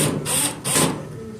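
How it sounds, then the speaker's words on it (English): An electric screwdriver with no bit attached whirs in two short bursts, close by, while unscrewing the cover screws of an overheating clothes dryer that keeps blowing fuses. "I'm gonna go ahead with my electric screwdriver with nothing attached."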